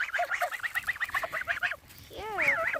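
One of two farm geese honks in a rapid run of repeated nasal calls up close, then a louder wavering honk after a brief pause.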